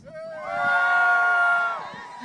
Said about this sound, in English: Now cheer for me if you are from the West.